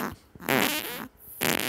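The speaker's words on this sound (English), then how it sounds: "And that's him still farting there is what you're saying." A person farts in short, sputtering bursts: two loud, close blasts separated by a brief pause, with no talk over them.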